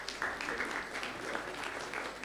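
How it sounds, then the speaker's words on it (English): Audience applause at an SME investor event, a steady wash of many hands clapping continuously through the moment, moderately loud and filling the room without pause. "Please give a warm round of applause."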